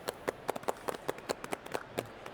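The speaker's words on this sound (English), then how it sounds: "Clapping for yourselves." Scattered clapping at an NBA 2K19 halftime show, a dozen or so distinct sharp claps spaced irregularly, fairly faint and thin rather than a full crowd roar.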